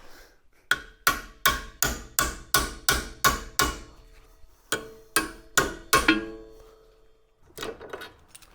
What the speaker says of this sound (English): It's hammer time.